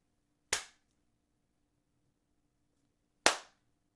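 Two sharp, isolated hand claps several seconds apart trigger a lab timer, each a crisp, close snap that decays quickly into near silence, with a faint steady hum between them.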